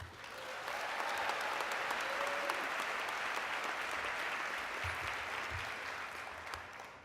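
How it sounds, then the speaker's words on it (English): A convocation audience gives a speaker a long round of applause, swelling in after a moment, holding dense and steady, then tapering at the end, with no talk over it. "Please join me in giving a huge hand of applause to Michelle Turner."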